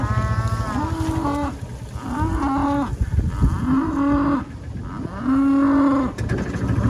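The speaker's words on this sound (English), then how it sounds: "Come on, cows!" Cows moo repeatedly, several long low calls overlapping one another, loud and nearby, over an outdoor rumble.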